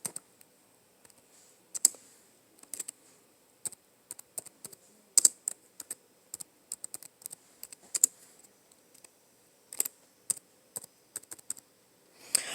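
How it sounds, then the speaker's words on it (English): One-handed typing on a computer keyboard, irregular clusters of crisp key clicks with short pauses between bursts, close and clear in a quiet room with no talking. "So I'm going to type in that title."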